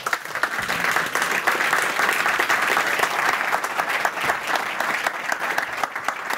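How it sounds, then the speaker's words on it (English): Audience applause at a business conference as a government business minister is welcomed, a full, sustained round of clapping that runs evenly for several seconds with no speech over it. "A big applause."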